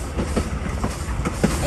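A passenger train heard from on board rolls along the tracks with a close, steady rumble broken by periodic clickety-clack beats from the wheels.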